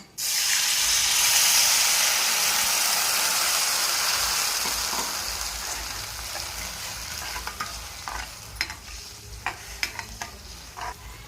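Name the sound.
water poured into hot tempering, sizzling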